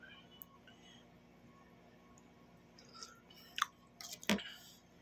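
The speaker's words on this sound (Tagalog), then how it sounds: "magmerienda tayo ng noodles" Quiet chewing and slurping of hot noodle soup close up, a few soft crunches and wet mouth noises growing more noticeable toward the end, no talking.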